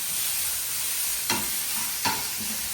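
Mutton sizzles steadily in a hot pan, broken by two distinct scraping stirs of a spatula, close and moderately loud with no voices.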